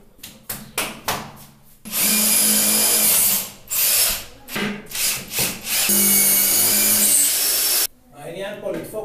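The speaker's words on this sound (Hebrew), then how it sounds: "מניח בצד, לוקח מקדחה." A power drill bores into a bathroom wall during a corner shower installation, loud whining bursts close by, starting and stopping several times between tapping and handling noises, with someone speaking briefly.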